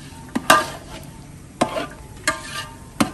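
Potatoes and peas for aloo matar being stirred and fried in a pan over a wood fire, with a steady sizzle broken by several sharp scraping strokes of a utensil against the pan.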